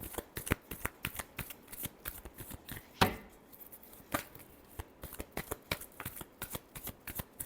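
Tarot cards shuffled by hand in a rapid series of crisp riffling flicks and taps, close and fairly quiet, with one sharper snap partway through.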